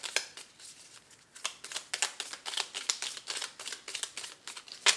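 Affirmation cards are shuffled by hand in a quick series of crisp riffling, flapping bursts, close and distinct with brief pauses between, and no talking.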